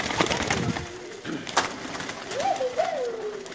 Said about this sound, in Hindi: ये तमाम कबूतर हैं